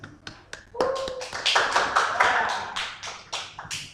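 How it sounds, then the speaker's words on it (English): A small group of students claps in an income tax lecture class, uneven sharp claps that build into a short ragged burst and taper off, with some voices underneath. "Everyone clap for me"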